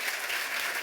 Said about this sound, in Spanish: Y quiero despedirte con un fuerte aplauso.